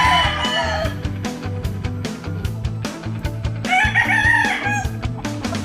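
An Ilocos Gray rooster, a Philippine native breed kept in a small backyard flock, crows loudly and close, with clucking and other fowl sounds mixed in around it throughout.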